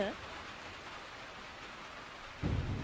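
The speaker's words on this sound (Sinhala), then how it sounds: "අපි දෙන්නගේ මොළුවට උඩින් වැටෙන එකම වැස්ස" Rain falls on a roof as a steady soft hiss, faint and even, with a low rumble at the end.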